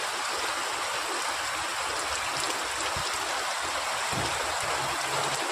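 Heavy rain pours down steadily outdoors as a dense, continuous hiss of water with a rushing, stream-like wash and no let-up.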